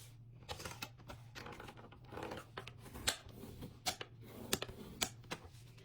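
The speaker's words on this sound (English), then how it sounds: "You're going to take your 5 by 10 sheet of paper, and you are going to fold that right in half." A 5 by 10 inch sheet of craft paper is folded in half for a flower pot pocket, producing close, crisp crackles and sharp creasing snaps in an irregular run.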